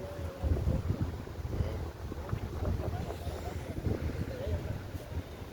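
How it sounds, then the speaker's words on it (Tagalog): Strong wind buffets the microphone on a dark outing beside the water on a day off, with boats nearby; a steady broadband rush with low gusty rumble runs throughout, and a voice speaks briefly over it. "lakas ng hangin"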